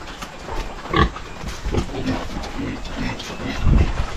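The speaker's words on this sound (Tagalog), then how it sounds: "Grabe kumain yung baboy ni Bruno ng kangkong oh." A pig eats water spinach (kangkong) on a backyard farm, with repeated crunching, rustling and grunting bursts, some loud and close, over a continuous background noise.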